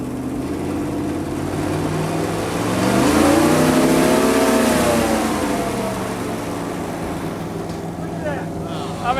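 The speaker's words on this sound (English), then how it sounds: "You're going to rev it up now." A car engine treated with Prolong oil additive revs up on test, rising to a strained high whine that holds for a few seconds and then eases back to a steady running drone, loud and close.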